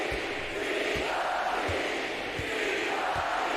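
A home crowd at a basketball game roars in a steady, dense wash of cheering, with a few dull low thumps from the arena floor underneath.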